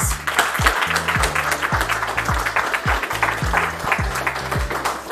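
Applause from an audience at a political youth summer-university gathering, greeting a speaker, with a loud pulsing rhythmic beat, like music played over the room, running alongside the clapping.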